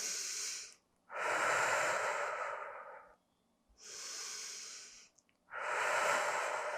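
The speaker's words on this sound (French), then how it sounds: "On respire tranquillement." Calm breathing during a Pilates leg stretch: slow, even breaths alternating in and out, close and airy, with short quiet gaps between them.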